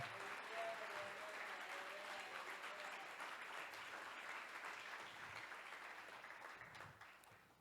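A church congregation at a worship service applauds with sustained, dense clapping from many hands that slowly fades toward the end, heard from a moderate distance.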